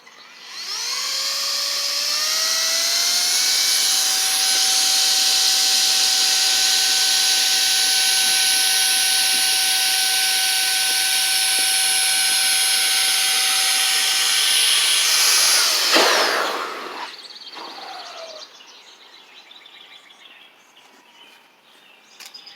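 A VOGMA VMonster V7 electric air duster spins up to a loud, high whining blast and holds it steadily for about fifteen seconds before winding down, close with no talk.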